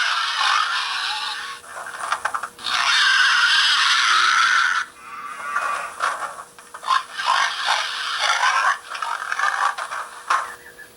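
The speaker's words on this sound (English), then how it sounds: "let's take a listen to the hogs" A Broadway Limited N scale sound stock car plays recorded hog sounds from its small speaker: a run of squealing, grunting oinks in uneven bursts with brief gaps, loud and close.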